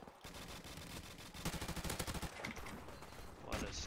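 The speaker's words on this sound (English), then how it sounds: "M4 carbine" Rapid full-auto M4 carbine fire in H1-Mod MWR, a steady stream of closely spaced shots in long bursts with a sharper rattling stretch midway, heard at moderate level over game ambience.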